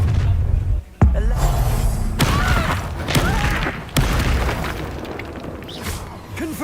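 A Confringo blasting spell goes off in Hogwarts Legacy, giving a loud, booming explosion near the start and another sharp blast a few seconds later, over dense rumbling battle noise.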